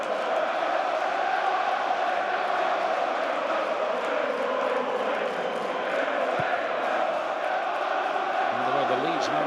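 Millwall football crowd roaring steadily throughout a League One play-off semi-final against Leeds, a dense, continuous wash of cheering voices from a packed stand, loud and unbroken.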